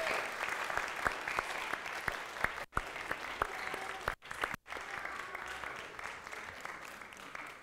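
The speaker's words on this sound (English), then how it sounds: "Can we give them a round of applause?" A church congregation applauds newly welcomed members during an English worship service, steady dense clapping throughout with a few brief drop-outs and sharper individual claps standing out near the front.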